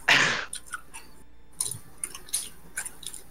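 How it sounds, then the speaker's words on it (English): Gum chewed close to the mic gives soft, irregular wet clicks and smacks, faint and spaced out after one louder rustling burst at the start. "No, this is the sound of chewing gum."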